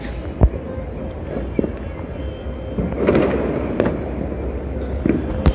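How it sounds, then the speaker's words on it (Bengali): New Year's Eve fireworks and firecrackers burst across Dhaka in scattered sharp bangs over a constant crackling rumble, with a voice talking over the noise. "এত শত ফানুষ এবং আতশবাজি কিন্তু আমরা রাজধানীর বিভিন্ন পয়েন্ট থেকে লক্ষ্য করছি"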